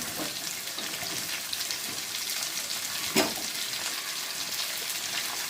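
Ginger frying in oil as onions go into the pan, giving a constant close crackling sizzle with a brief louder burst from stirring near the middle.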